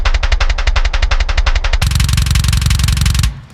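Extremely fast drumming at 170 BPM, a relentless loud stream of rapid strokes that sharpens into a denser, heavier barrage partway through before cutting off abruptly.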